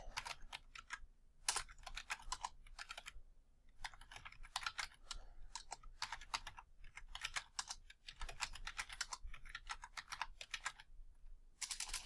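Steady typing on a computer keyboard while entering data in an Excel spreadsheet, quiet close-up key clicks in short rapid bursts separated by brief pauses.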